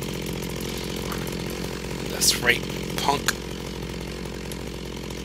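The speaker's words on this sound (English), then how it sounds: "Got a chainsaw for you." A chainsaw in the video game Minecraft revs in a few short bursts amid continuous game background noise, while someone talks over it.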